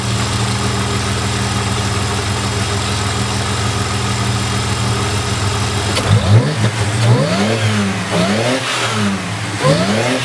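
Supercharged car engine after an oil change, idling steadily, then revved repeatedly with rising and falling whine and roar, loud and close.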